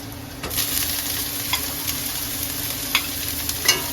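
Onion, fish and salted radish greens fry in a pan with a steady close sizzle, broken by several scraping stirs, no voices.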